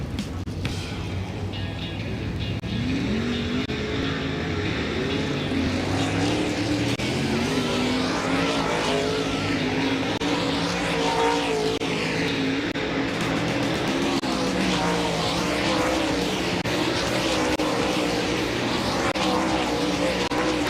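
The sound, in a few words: World of Outlaws dirt late model race cars during hot laps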